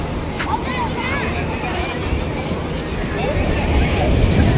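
Rough sea waves breaking at Diu beach, a continuous wash of surf and wind rumble that swells slightly near the end, with someone talking over it throughout.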